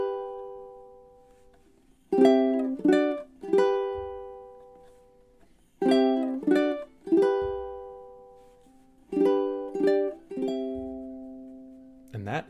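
A ukulele plays the outro of a song in groups of three quick strummed chords, each group ringing out before the next, ending on a long sustained chord, close and clear.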